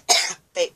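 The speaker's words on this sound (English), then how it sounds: "Fake coughs aren't fake." Two short, harsh coughs close to the microphone: a longer first burst, a brief pause, then a shorter second one, with nothing else audible.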